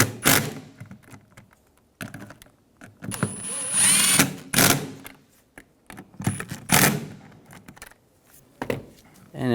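A power tool tightens the bolts on the radiator cooling fan of a 2000-2006 BMW X5 3.0L inline-six, several short, close whirring bursts broken by pauses and clinks of handling.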